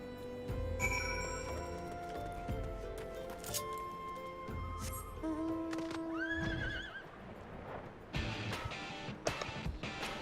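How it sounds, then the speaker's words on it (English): A flying horse mount in Final Fantasy XIV gives loud whinnies and neighs over clip-clopping hooves, mixed with chiming game tones and effects throughout. "Well, I have a flying horse."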